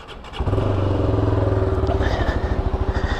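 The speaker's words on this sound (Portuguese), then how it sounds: "Uma das coisas que muita pessoa tá reclamando aí é de um barulho no motor." A Shineray SBM250s motorcycle engine idles close by with a steady, rhythmic chugging that continues throughout, with an engine noise fault.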